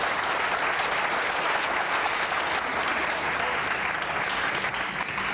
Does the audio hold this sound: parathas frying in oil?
no